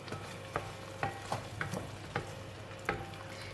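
A spice paste for ayam masak merah fries in a pan, a low steady sizzle broken by several sharp scrapes and clacks of a spatula stirring it, close and fairly quiet with no talking.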